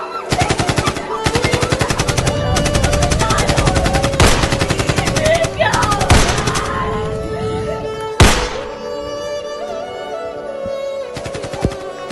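Loud, close bursts of rapid machine-gun fire in a staged school fest performance, long sustained volleys broken by single sharp blasts and a brief lull, with a faint shouted voice.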